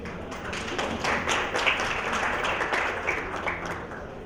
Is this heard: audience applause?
yes